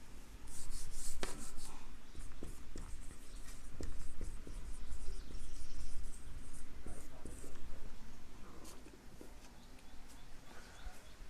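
Marker or chalk writing a heading on a board, with steady scratchy strokes and short taps continuing throughout, fairly close, alone without talk.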